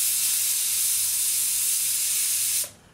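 A pressure cooker cooking mutton vents steam in a loud, continuous close hiss that holds steady before cutting off abruptly near the end, leaving faint room noise.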